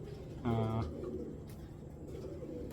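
White bar racer pigeon cooing once in a low, rolling burst, close and fairly loud, then fading into a quieter background of soft murmurs and room noise.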